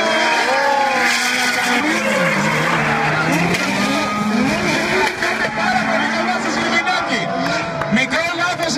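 Racing karts at full throttle charging up a straight at a karting circuit, a dense, loud, continuous engine whine with rising and falling pitch sweeps as several karts pass, while a commentator talks over the noise.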